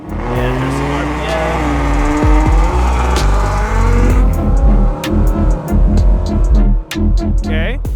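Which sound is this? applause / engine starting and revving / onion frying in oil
engine starting and revving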